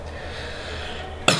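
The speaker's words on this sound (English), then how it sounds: "can you give me a big cough?" A patient coughs once, sharply and close, during a medical abdominal examination, the burst coming right at the end after a stretch of quiet room hum.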